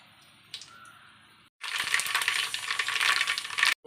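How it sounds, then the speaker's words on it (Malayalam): Mustard seeds tossed into hot oil for an Irumban puli (bilimbi) pickle set off a sudden loud, dense crackle and spatter that runs steadily for about two seconds after a quiet start. "കടുക് ഇട്ട് കൊടുക്കാം."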